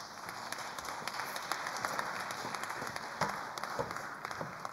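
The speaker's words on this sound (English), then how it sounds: "So give a round of applause to Mikhal Heffer." Audience applause at a digital expo event welcoming a speaker on stage, a steady wash of many hands clapping throughout with no voices over it.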